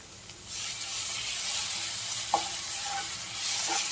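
Garlic frying with onions in a pan for Bengali ghugni makes a steady, close sizzle, with a few light clinks from stirring.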